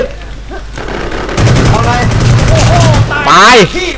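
Gunfire in a Warz ABC video game, rapid bursts of shots crackling in quick succession under excited voices talking over them.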